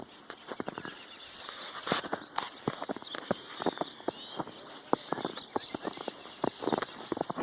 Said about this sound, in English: You can hear my feet.